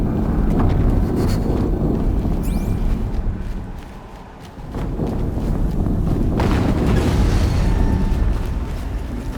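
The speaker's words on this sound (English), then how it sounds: "Another explosion." Loud, rumbling explosions in the video game Horizon Zero Dawn, a sustained broadband roar that dips briefly mid-way before a second blast surges back in, with no talk over it.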